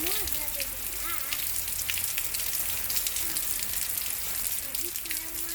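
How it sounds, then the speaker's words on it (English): Heavy rain pours down during a thunderstorm outdoors, a dense steady hiss that holds at full loudness throughout, with brief voices faintly beneath it. "That's a lot of rain."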